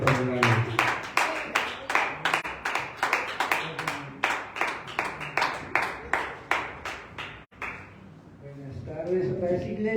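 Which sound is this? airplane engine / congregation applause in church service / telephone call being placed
congregation applause in church service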